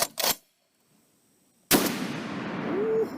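A Barrett M82A1 .50 BMG anti-materiel rifle fires twice: a short sharp blast opens, then after a silent gap a second loud close report booms and rolls out into a long fading echo.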